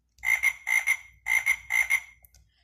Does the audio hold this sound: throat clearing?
no